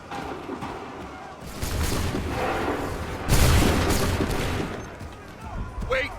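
Musket volley fire during the Battle of Bunker Hill in Assassin's Creed 3, a rumbling crackle of massed shots and battle noise swelling into a louder burst midway, with shouted commands among the din.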